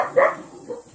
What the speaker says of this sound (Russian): Кто это гавкал?